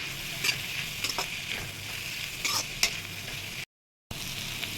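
Onion, ginger and spices such as Kashmiri red chilli and turmeric sizzle steadily in a pan for jackfruit curry, while a spoon stirs and scrapes in occasional strokes, close up with no talking.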